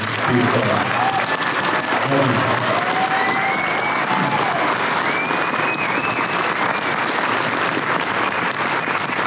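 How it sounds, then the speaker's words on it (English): Sustained applause from a large convention crowd at MegaCon 2026, loud and continuous, with scattered cheers rising through the clapping. "Big round of applause for Frank Welker."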